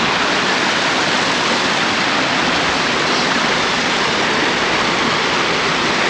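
Rushing mountain water swollen by melting snow on a hiking trail in the Ariège Pyrenees, a loud, steady, dense roar of torrent or waterfall filling the whole clip without any voices.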